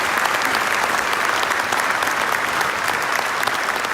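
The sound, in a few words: applause for the Aurora Police Department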